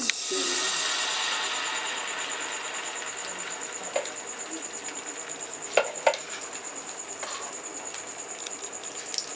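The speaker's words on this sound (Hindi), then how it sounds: "1 खाने के चम्मच बराबर ऑयल डाल दें, इसको फैला दें और 1 बड़ा चम्मच इस पे डालें।" Potato sandwich batter sizzles steadily in an oiled pan, a soft continuous frying hiss with a few light clicks of a spoon spreading it.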